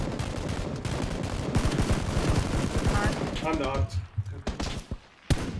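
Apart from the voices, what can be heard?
gunshots in a video game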